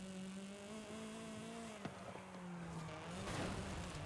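A turbocharged 1985 Toyota Trueno runs with a steady engine drone, its sustained tonal whine holding level before a brief blip and a rising rush of noise near the end, heard close and unaccompanied.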